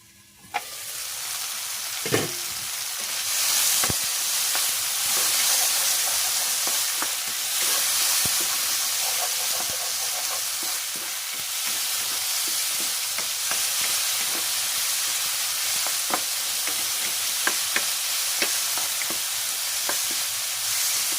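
Ground pork and tomatoes fry in a covered pan, giving a loud, steady sizzle that runs throughout, broken by scattered sharp pops and clicks.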